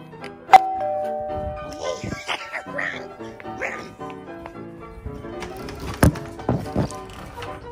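A doorbell chimes during a ding-dong-dash prank at a house gate, sounding once loudly near the start and again around six seconds, amid rustling, a dog's barks and people talking.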